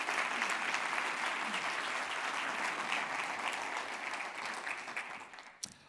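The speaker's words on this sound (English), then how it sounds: "if you don't mind giving me a round of applause as we welcome them this evening." A crowd at a Johannesburg pitching competition event applauds in a sustained, dense round of clapping that slowly tapers near the end.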